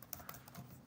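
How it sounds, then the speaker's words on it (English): Typing on a laptop keyboard with tiny flat keys, a quick run of light, close clicks and taps with no voice over it. "Laptop keyboards give me trouble."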